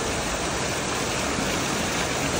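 Natural spring water pours down from the mountains beside a historic mosque in Abbottabad, a dense, steady rushing roar with no pause, loud and close throughout.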